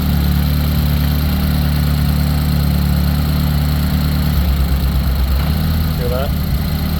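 A Ford Focus ST sits at a steady idle nearby, low and continuous, its tone shifting slightly partway through as a brief voice sounds near the end.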